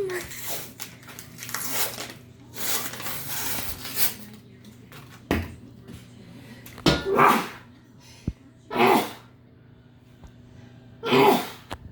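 A person sneezes several times in a home kitchen while baking with flour and canned cinnamon roll dough, each sneeze a sharp burst amid background handling noise and occasional clatter.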